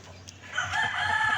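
A rooster crows close by, one loud, drawn-out cock-a-doodle-doo that swells and holds, with nobody talking.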